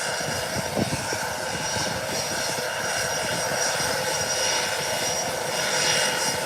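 A British Airways Boeing 777 rolls down the runway after landing, its engines giving a constant broad roar at moderate distance that holds steady throughout, with no voices over it.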